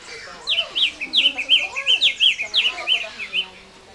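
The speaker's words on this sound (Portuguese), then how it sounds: "Olha, pica-pau." A woodpecker calls close by and loudly in a rapid run of repeated sharp chirping notes, a dozen or so in quick rhythm over about three seconds.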